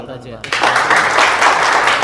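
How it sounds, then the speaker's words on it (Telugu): An audience breaks into applause for a student on a college stage, a dense burst of clapping starting abruptly and continuing loud and close after a brief moment of talk. "Give him a big round of applause."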